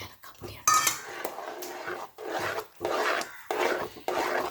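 A utensil stirs poha halwa in a pan, making close scraping and rubbing bursts with short pauses between strokes, and metal clinks now and then.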